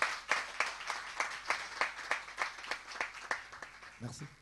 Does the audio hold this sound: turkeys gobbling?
no